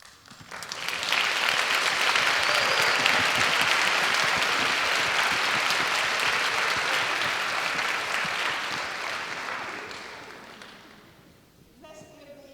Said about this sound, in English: Let's give these women a round of applause.